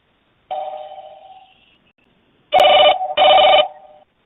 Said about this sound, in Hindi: बताइए, पहला फोन कॉल किसके साथ जोड़ रहे हैं,